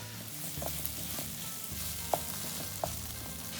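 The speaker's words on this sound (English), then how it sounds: "the tomatoes have been cooking in there" Chopped tomatoes cook down dry in a pan for kheema, giving a steady soft sizzle with a few light clinks of a spoon against the pan.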